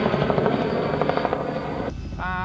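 A helicopter sets down beside an off-road race car stopped during a desert race, its rotor chopping loudly and rhythmically up close for about two seconds before cutting to a quieter scene with a brief tone.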